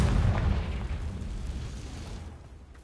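A Confringo spell blast in the Hogwarts Legacy video game, a loud booming explosion that hits at once and rolls off into a fading rumble over about three seconds.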